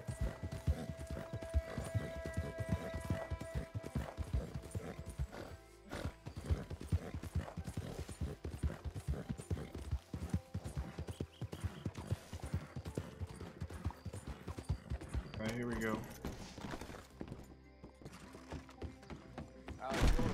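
Horse hooves clip-clop steadily and rhythmically in the video game Red Dead Redemption 2, with some mechanical clunks mixed in and a brief pause partway through.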